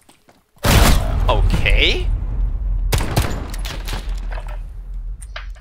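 Bursts of gunfire in the video game Call of Duty Modern Warfare 2019 crack out loud after a near-silent start, a dense volley followed by scattered shots, with players talking briefly over the fight.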